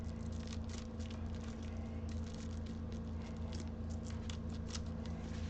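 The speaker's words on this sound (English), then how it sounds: "it's a little hard to cut through this stuff with scissors" Scissors clip through material on the back of a stretched canvas, giving soft, repeated snipping strokes against a steady background hum.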